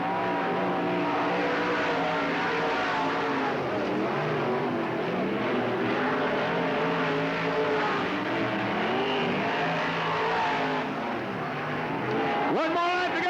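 Race cars lapping at Riverside Speedway in Cottage Grove, a dense layered engine roar with rising and falling revs as cars pass, loud and continuous under a track announcer's voice.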